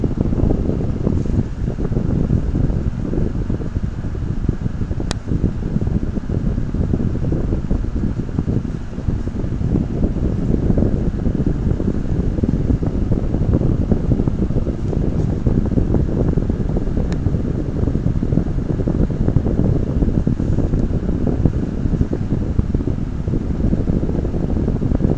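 An electric fan blowing steadily in a room where watercolor painting is underway, a constant close broadband whoosh with no break throughout.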